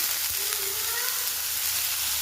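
Soaked kurdai, thin Maharashtrian wheat noodles, hit a hot pan with onion and sizzle steadily in oil, a continuous close hiss with faint stirring scrapes.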